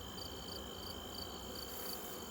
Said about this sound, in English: There's a yellow jacket. 2 of them. Oh, they're trying to get in.